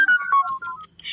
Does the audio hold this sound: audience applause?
no